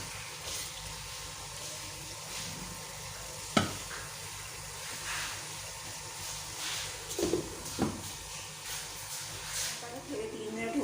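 Masala-stuffed green chillies frying in beef achar gosht, a soft continuous sizzle under occasional stirring clanks and scrapes, fairly faint, with a voice speaking over it.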